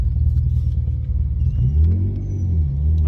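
An old Alfa Romeo car engine fitted with an expensive aftermarket exhaust, warmed up and idling with a deep steady rumble, then revved to a louder swelling growl that settles back, close and loud with no talking.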